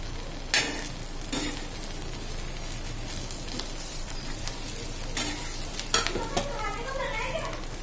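Omelette frying with a fresh kulcha in a pan, soft continuous sizzle with occasional scraping and stirring clatter of a utensil, fairly quiet and close, no speech.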